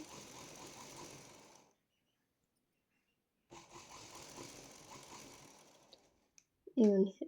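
Sewing machine running while stitching the side joint of a plain blouse, two steady mechanical runs separated by a pause of silence, followed by a brief burst of talk near the end.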